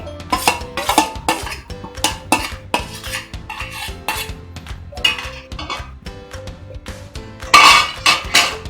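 Half the rice goes into a pot of soya dum biryani with a spoon, giving quick metallic clinks and scrapes against the pot in an uneven rhythm, close and clear with no voices.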